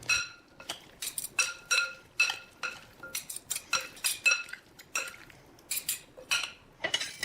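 Utensils clink and scrape against a bowl in repeated bursts as tuna salad with olive oil is stirred, close up and fairly quiet.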